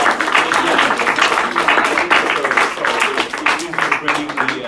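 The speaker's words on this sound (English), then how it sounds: "let's give a big round of applause" An audience at a media panel applauding with quick, dense clapping that holds steady throughout, fairly loud and close, with no talking over it.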